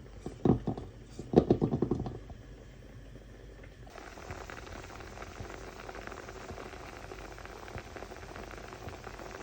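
Fish boils in a pot while odiyal puttu is being made in a Jaffna-style home kitchen, a steady bubbling hiss that follows a few louder knocks and clatters at the start.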